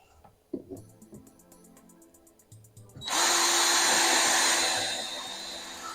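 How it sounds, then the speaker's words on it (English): A power drill boring small pilot holes for TV mount screws whirs up to a high, sustained whine, preceded by a few brief clicks and a short buzzing start, running loud and close. "I'm just going to basically drill a small little pilot hole for these screws"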